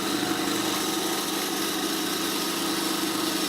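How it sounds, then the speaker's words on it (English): A bandsaw cuts scrap wood with a steady, loud, even whine and hum, unbroken through the whole stretch with no pauses or talk. "I move to the bandsaw and cut them out"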